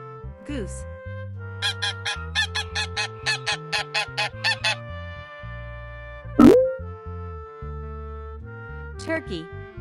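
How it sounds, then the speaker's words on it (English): Goose honking, a sharp single call rising out of a children's song with cheerful instrumental music and singing playing throughout, the honk standing out loud and brief near the middle. "Goose."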